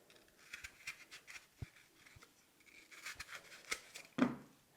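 A knife cuts an imperfection out of an apple on a mountain homestead in Portugal, with soft scraping and small cutting clicks close by and one sharper knock near the end, quiet and with no talk.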